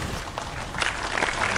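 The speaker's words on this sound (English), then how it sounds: "So I take your applause" Applause from a Twitch chat applause bot: a steady wash of synthetic clapping that swells slightly louder in the second half, with no voices over it.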